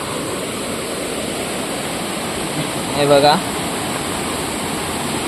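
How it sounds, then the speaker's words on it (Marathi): River water in a village rushes steadily below an old road bridge after the dam has filled, a loud continuous roar with someone briefly speaking over it. "हे नदीला इकडे पाणी चालू झालंय बघा।"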